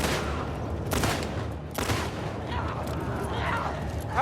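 Gunfire in The Last of Us Part II: a sustained barrage of shots, with two loud bursts standing out against continuous battle noise and other in-game sounds.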